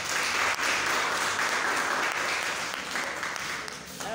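An audience at a high school in Natitingou gives a steady, loud round of applause for a former student, dense clapping that holds for about four seconds before thinning slightly.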